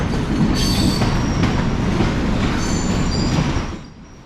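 Sri Lankan sleeper train running on the rails, loud rumbling carriage noise with high metallic wheel squeals cutting in repeatedly, then fading down at the end.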